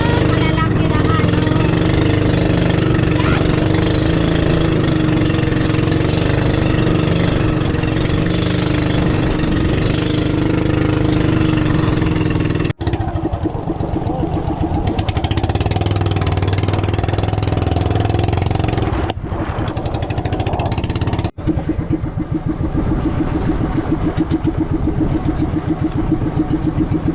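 A boat's engine runs at sea, a loud steady droning rumble that continues throughout with slight shifts in pitch and a couple of brief abrupt cuts.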